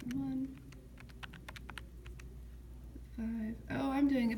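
Quick runs of light plastic key presses on a Casio calculator keypad, about a dozen close, soft taps in a burst, with a person talking briefly before and after.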